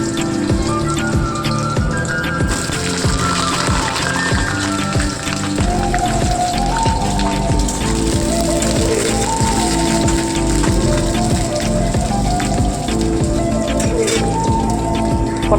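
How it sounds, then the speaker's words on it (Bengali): Pieces of pointed gourd (potol) fry in a pan with a little salt and turmeric, giving a loud, continuous sizzle and crackle that runs steadily throughout. Occasional clinks and scrapes of utensils sound close by. "পটলটাকে ভেজে নেব।"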